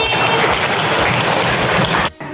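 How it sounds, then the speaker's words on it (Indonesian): A classroom of pupils claps for a classmate, a dense burst of hand claps lasting about two seconds that stops abruptly, fairly close and loud. "tepuk tangan untuk Mbak Eli"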